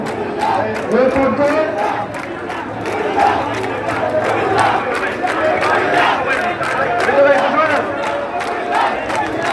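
A procession of Comilla traders, shop owners and workers marching for a Comilla division chant together in a loud, rhythmic crowd roar with shouted slogans, steady and close throughout.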